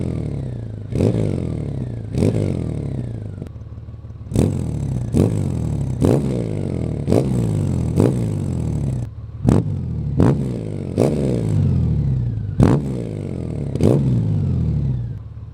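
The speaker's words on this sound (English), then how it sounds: "Let's listen to some examples of the REMUS Performance Sport Exhaust." A 2018-or-later Honda Goldwing motorcycle with a REMUS Performance Sport Exhaust gives about a dozen sharp throttle blips in a row, each rev rising quickly and falling back to a steady idle rumble, loud and close with no voices.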